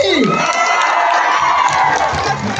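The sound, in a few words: crowd cheering and applauding at a political rally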